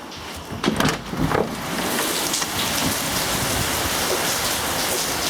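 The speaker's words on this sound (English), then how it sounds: "it's raining even more now" Heavy rain pouring down outdoors, a steady dense hiss that builds after a few brief knocks and rustles near the start, then continues loud and unbroken with no talking.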